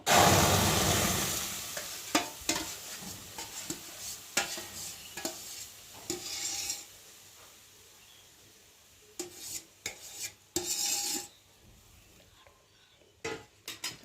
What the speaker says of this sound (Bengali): এখন আমি ওই কড়াইয়ের মধ্যে এখন এগুলোকে ঢেলে দেবো